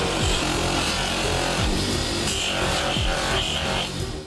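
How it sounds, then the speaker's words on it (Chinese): A cloth buffing wheel polishes the two grip panels of a rusty WWII 98k bayonet, producing a steady, dense whirring hiss at close range that holds nearly constant, with soft music beneath. "用布轮进行一次抛光就可以了"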